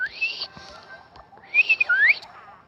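Someone tries to whistle, producing a couple of thin, wavering high tones in short bursts with breathy gaps between, faint and fairly close.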